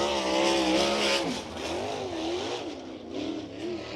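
Sprint car in the USAC National Sprint Car Series at Bloomington Speedway, engine screaming loudly and close as it revs and shifts pitch, rising and falling while it runs the track.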